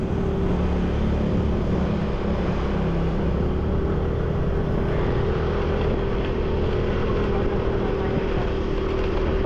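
A motorcycle coasts downhill on a road toward a treehouse in hilly, Baguio-like country, its steady engine and road rumble filling the whole stretch close and loud, with no talking.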